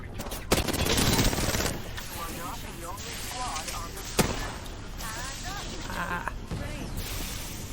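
Gunfire in the battle royale shooter Apex Legends, with a sharp burst of shots near the start and another crack around the middle, set against ongoing game sounds and effects. Voices talk over parts of it.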